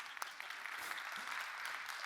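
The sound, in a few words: audience applause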